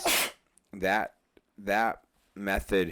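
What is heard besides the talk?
person sneezing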